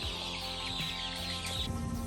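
Pasture-raised laying hens on a small farm flock cluck and call close by, overlapping fowl vocalizations with a few sharper squawks and no talking.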